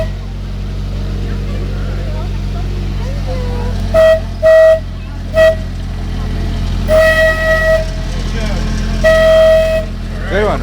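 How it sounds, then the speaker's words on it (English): Short blasts of a train horn, sounded several times in irregular bursts: two quick toots, a longer one, then a few more, over a steady low engine rumble inside the cab. "Man, can I honk the horn?"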